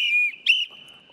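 A whistle is blown in two sharp, shrill blasts, a longer one followed by a shorter burst, then a fainter trailing tone. It is loud and close, with no talking.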